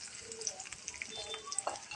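Garlic sautéing in a pan for a squid dish, a quiet continuous sizzle with small crackles and ticks scattered throughout, close and faint.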